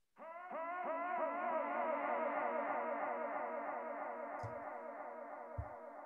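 An electronic music track with saturation, high-frequency filtering and EQ effects plays a sustained, buzzy, harmonically rich tone that stays steady and fairly quiet for several seconds, pulsing with a faint rhythm, with a couple of small clicks near the end.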